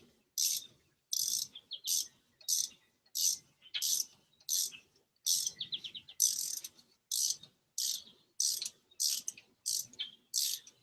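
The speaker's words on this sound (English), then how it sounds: "It's really tough to deal with the torque from the ratchet." A ratchet works on the valve retainers of a 2001 Honda S2000 AP1 F20C engine, making rapid bursts of close, crisp clicking in a steady, repeating rhythm, with faint voices underneath.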